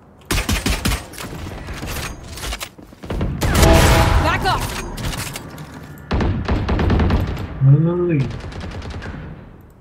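Video-game gunfire during a live stream: repeated bursts of rapid automatic fire and heavy salvos, loud and close, with people talking over and between the shooting.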